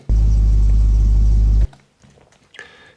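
A V8 car engine idles loud and close, a steady deep rumble with a pulsing beat that cuts off abruptly, followed by faint rustling and a few small handling noises.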